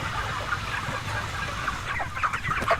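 Tens of thousands of broiler chickens crammed into a shed, a dense constant chorus of clucking and chirping close by, with no talking.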